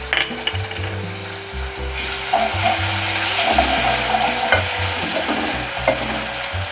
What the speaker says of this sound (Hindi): इसमें मैं डाल दूँगी अदरक लहसुन पेस्ट।